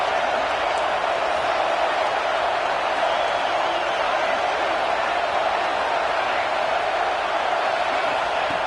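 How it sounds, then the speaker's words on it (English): Stadium crowd roar in the video game College Football 26 during a red zone defensive stand, a steady, loud, dense wash of crowd noise holding constant throughout with no pauses. "This crowd is trying to inspire this defense to make a big red zone stop."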